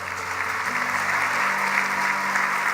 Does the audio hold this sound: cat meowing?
no